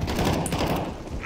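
P90 submachine gun fire on Dust 2 in a CS:GO deathmatch: a rapid, loud burst of automatic shots in quick succession lasting about a second.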